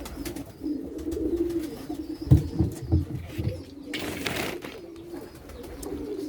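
Pigeons coo softly on a wet rooftop, their low calls overlapping in a steady murmur with a brief burst of wings flapping partway through, all heard at a moderate distance.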